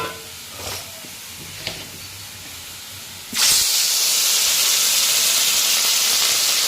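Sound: fish frying in a wok

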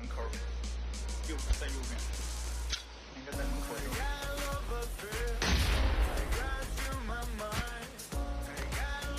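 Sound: grenade explosions in video game

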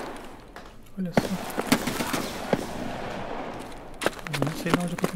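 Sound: gunfire in a video game

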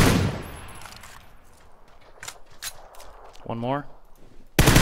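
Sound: gunfire in a video game

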